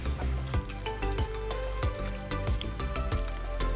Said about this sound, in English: Now all I have to do is mix.